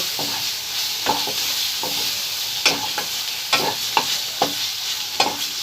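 Kharkol leaf paste, its water cooked off, is stirred in a pan with a spatula. It gives close, rhythmic scrapes every second or so over a steady frying hiss, with no voices.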